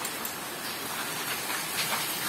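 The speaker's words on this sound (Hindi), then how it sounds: "बारिश लगी हुई है बाहर" Outside rain falls in the Himachal hills, a steady, even hiss of rainfall that continues throughout with no talking.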